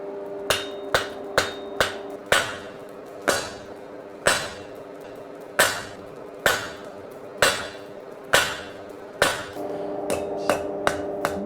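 A blacksmith hand-finishes the ridges of a forged octagon with about fourteen sharp, ringing hammer blows, quick at first and then evenly spaced about a second apart, close and loud.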